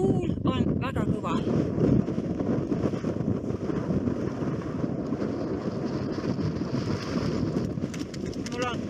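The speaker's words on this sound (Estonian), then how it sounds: "Tuul on väga kõva." Strong wind on the 713-metre Pyhäkero summit in Finnish Lapland roars and buffets a microphone in heavy, continuous gusts. Faint voice-like sounds and flapping show in places.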